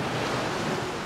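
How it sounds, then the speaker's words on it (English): Ocean surf rolls onto the shore at a Phuket beach in Thailand. It makes a steady, broad rushing wash mixed with wind buffeting, and nobody speaks. "You get some really good waves here for any budding surfers."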